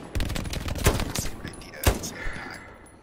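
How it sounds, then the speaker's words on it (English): Gunfire in Hell Let Loose pops and rattles in scattered shots and short bursts, including machine gun fire, with two sharp loud cracks standing out over a steady battlefield din. "I don't know where that MG's coming from"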